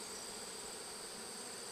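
Honeybees drone continuously inside a modified Warre hive, a steady, even hum with high whining tones, fairly quiet and uninterrupted.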